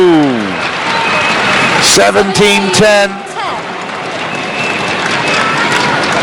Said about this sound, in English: the chayo for Lin Dan is getting louder and louder